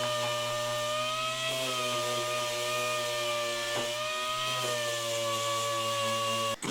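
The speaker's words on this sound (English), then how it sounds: "I then started using my palm sander to sand it down." A palm sander sanding a Daihatsu Charade car body runs continuously with a strong low whirring hum and sharp high tones, close and unbroken, cutting off abruptly at the end.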